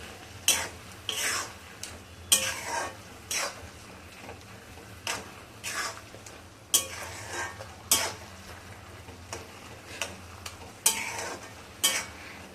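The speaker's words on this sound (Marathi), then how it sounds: "हा आपला एकदम सुका होईपर्यंत छान आता परतून घ्यायचं आहे आपल्याला" Carrot halwa with milk powder being stirred and roasted in a pan, a spatula scraping in repeated strokes roughly every second over a low, steady background hum, with soft clinks between strokes.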